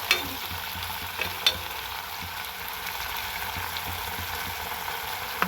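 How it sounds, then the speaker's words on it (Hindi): Onion and capsicum stir-fry with soy sauce in a pan for veg Manchurian, a continuous close sizzle broken by a few sharp utensil clinks against the pan. "अच्छे से मिक्स करेंगे प्याज और शिमला मिर्च के साथ में।"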